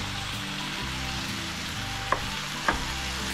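Mashed hamburger meat and onions sizzle steadily in a frying pan while being stirred, with a constant close frying hiss and two brief sharp utensil clicks near the end.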